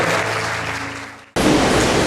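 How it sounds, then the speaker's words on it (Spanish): Church congregation applause during a Sunday morning service, a dense roar of clapping that fades out, then abruptly returns at full loudness after a brief cut. "¿Por qué no le damos un fuerte aplauso al Señor que es digno de ser alabado?"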